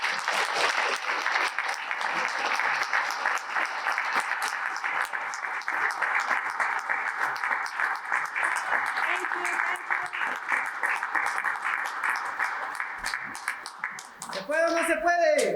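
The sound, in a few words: round of applause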